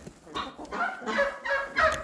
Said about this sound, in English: Why is that turkey making all that noise?